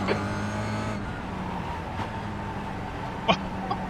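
Race car engines at Phillip Island in the iRacing sim, a steady drone of nearby cars with a brief sharper burst near the end.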